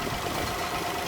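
Steady engine idle of a Peugeot 107 after its front exhaust downpipe gasket was replaced, a constant low rumble close by with no voices.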